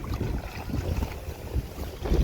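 Strong outdoor wind buffets the microphone beside a pond on a sunny February day, making a steady, loud rumbling roar with gusts throughout.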